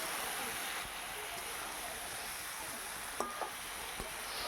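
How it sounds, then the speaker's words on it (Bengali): Fish heads stir-frying in a pan with cauliflower, other vegetables and spices make a steady, even sizzling hiss, with a couple of brief clinks near the end. "মাছের মাথাগুলো দিয়ে সবজির সঙ্গে মশলার সঙ্গে ভালো করে কষে নিচ্ছি।"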